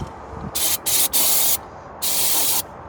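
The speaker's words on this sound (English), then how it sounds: "I'm going to grab my cleaner. I'm going to give it a good little clean down real quick." Brake cleaner sprays onto the rear wheel hub of a Chevrolet Cobalt in three close hissing bursts with short pauses between them.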